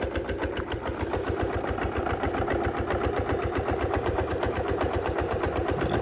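The engine of a 1970 Honda Trail 90 motorcycle idles just after a kick start, a steady, close, fast putter of evenly spaced firing pulses with no break.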